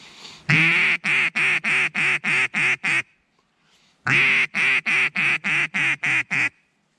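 Someone blows a comeback call on a duck call: two rapid series of eight loud, close quacks, the first long and the rest descending in quick rhythm, separated by a short pause.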